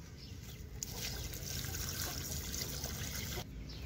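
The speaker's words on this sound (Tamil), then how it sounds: "தேங்காய் புண்ணாக்கு இப்போ வந்து இதல வந்து தண்ணி நல்லா முழுகற அளவுக்கு ஊத்தி கொஞ்ச நேரம் ஊற வைக்கலாம்" Water is poured into a container of coconut oil cake to soak it, giving a soft, continuous trickle and gentle splashing that stays quiet and close throughout, with no talking.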